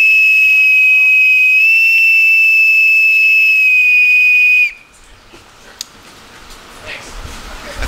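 A boatswain's pipe sounds a ceremonial piping-the-side call: one sustained, piercing shrill note with a brief upward shift midway, ending abruptly and followed by quiet room sounds.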